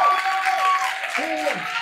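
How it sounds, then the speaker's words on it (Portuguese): Audience applause at the close of a career talk about working in recreation, with clapping mixed with whistles and shouting voices from the crowd. "Uma salva de palmas para vocês."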